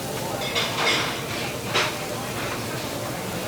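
Spices worked into chicken in a bowl: soft clinking and scraping of a utensil against the bowl in a few brief bursts, faint over a steady background hum.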